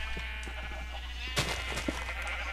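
Two short sheep bleats from Minecraft cut through a constant low hum, both fairly close and separated by about half a second.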